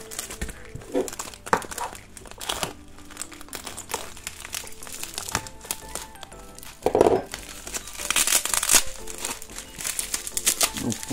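Plastic and paper packaging for ant-farm supplies from an online ant shop crinkles and rustles near the mic as it is unwrapped, with steady crackling and a louder rip partway through.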